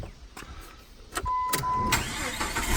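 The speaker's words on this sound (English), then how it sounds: "If you unplug that and then fire the engine up, I'm going to do that right now." A 2000 Jeep Grand Cherokee engine cranks and catches, a short starter whir followed by the motor settling into a steady close idle after some clicks and handling noises.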